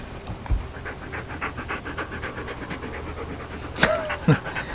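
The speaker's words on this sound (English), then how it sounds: "Hearing the breathing dog." A dog pants steadily in quick rhythmic breaths close by, with a couple of sharp clicks or thuds and a brief squeak near the end.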